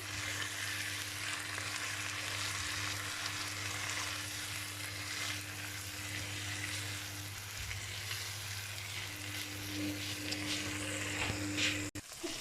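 Onions fry in a pan for a savory ground-meat croissant filling, giving a steady, dense sizzle with a constant low hum beneath and a faint stir near the end.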